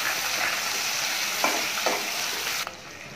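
Cubed onions sizzle briskly in hot oil in a pan for chili chicken, a constant bright fry broken by a couple of stirring scrapes before the sound drops away at the end.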